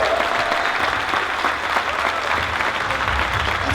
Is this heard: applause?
yes